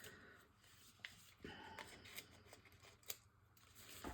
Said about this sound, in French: on reprend ses ciseaux et on repart